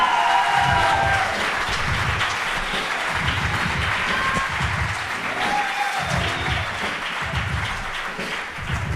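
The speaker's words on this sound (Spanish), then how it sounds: "Un aplauso para él." Steady applause from a poetry slam audience in Iruñea fills a room, a thick wash of clapping with occasional louder individual claps and faint crowd murmur, dipping briefly before resuming.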